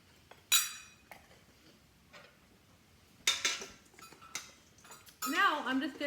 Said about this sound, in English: Now I'm just going to mix our fruit to make sure that it's evenly distributed.